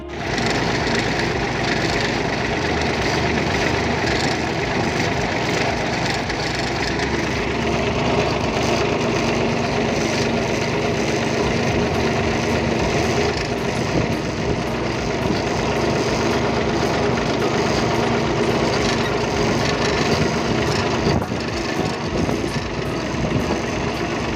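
A Massey Ferguson tractor engine idling steadily and loudly nearby on a farm, a continuous low rumble with a faint hum, unchanging throughout and without voices.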